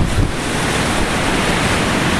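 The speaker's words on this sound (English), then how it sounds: "the waves are just rolling in" Rough surf during Hurricane Sandy crashes and roars continuously at a beach near a shipwreck by Camp Cavell, with heavy wind buffeting the microphone.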